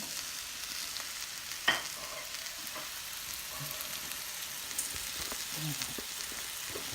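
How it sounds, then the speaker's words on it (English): Frozen mixed peppers and onions sauté in a pan for a brown stew fish, giving a steady soft sizzle with a sharp clink near the start and faint stirring scrapes throughout. "And we're just going to mix it in. Saute this up."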